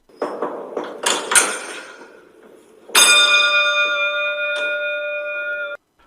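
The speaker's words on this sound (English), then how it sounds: "Arthur pulls on the lever to ring the doorbell" A few clattering mechanical knocks as a lever is pulled, then a loud bell-like doorbell chime rings out and sustains with a bright ringing tone before cutting off abruptly.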